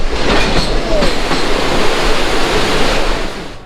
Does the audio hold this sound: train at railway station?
yes